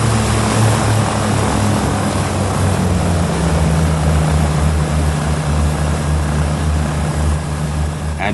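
Several propeller aircraft engines drone steadily and loudly with no pauses, a deep engine hum holding under a broad roar throughout.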